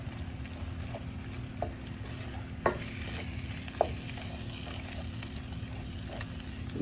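Seasonings being stirred into raw ground beef, with adobo among them, for Jamaican-style beef patties: a steady soft wet mixing texture, close and continuous, broken by a couple of sharper utensil knocks, no voices.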